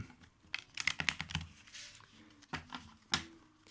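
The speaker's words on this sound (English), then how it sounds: "let's shuffle them up." A deck of cards is shuffled by hand in quick, papery riffles and snaps. The sound comes in two bursts of crisp, close clicking with a short pause between them.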